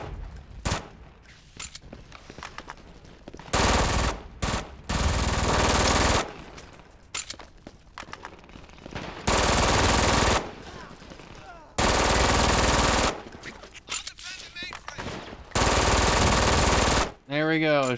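Bursts of automatic gunfire in the first-person shooter Brink on PC, several loud sustained volleys separated by short pauses, with quieter game sounds and occasional talk in between.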